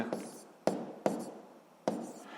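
A physics answer being written down: faint, close scratches and taps of a pen on paper in a few separate strokes, quiet and alone.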